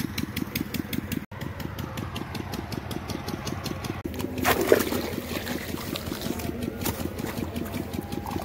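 Irrigation water trickles and flows steadily into onion and okra field beds, a continuous close watery burble under a steady engine-like drone, with no talking.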